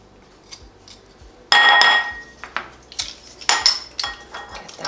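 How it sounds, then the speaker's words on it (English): A handheld garlic press crushing a couple of garlic cloves in a kitchen, giving a loud squeezing crunch and metallic clatter near the start, followed by scattered clinks and taps of utensils. "I'm going to take my lovely garlic press, and I'm going to press some garlic in here"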